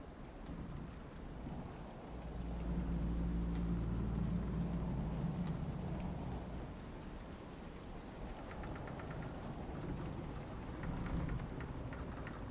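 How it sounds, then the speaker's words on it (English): Steady rain hisses under a low, rolling rumble of thunder that swells in the middle and then eases, a stormy ambience from the video game Dragon Age: Inquisition with no voices. "if this storm ever clears"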